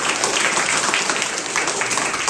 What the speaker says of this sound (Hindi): चलो अपने टीचर्स के लिए जोरदार तालियां बजा दो